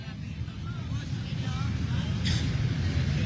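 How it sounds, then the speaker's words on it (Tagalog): Road traffic slows and halts around a roadside spot, with a dense low rumble of idling buses and cars, a short hiss like an air brake, and a voice talking over it. "O, dito tayo sa mga tumitigil na sasakyan."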